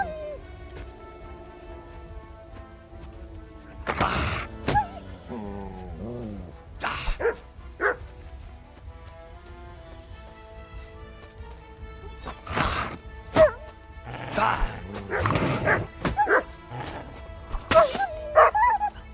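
A dog named Mutt barks in the medieval role-playing game Kingdom Come: Deliverance 2, with several sharp barks and yips spaced across the scene amid game music and ambience.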